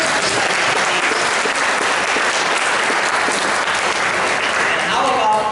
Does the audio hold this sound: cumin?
no